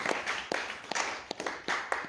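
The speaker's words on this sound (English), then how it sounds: "clap for Jesus" A church congregation claps in a steady rhythmic beat, sharp repeated hand strikes close by with no talk over them.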